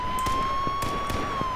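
Police car siren in the H1Z1 battle royale video game, a steady wailing tone held at a fairly even pitch throughout, with faint thumps and game noise underneath.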